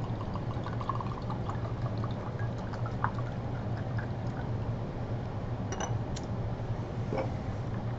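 Acetic acid poured into a glass laboratory beaker gives a steady, quiet liquid wash that fills the background, with a few faint clinks and drips along the way.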